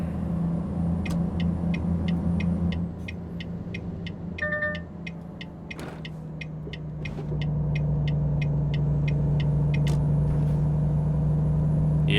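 A truck drives along a highway in a truck simulator game with 18 gears, its engine a steady low drone that dips briefly then settles into a constant cruising rumble, with faint clicking ticks along the way.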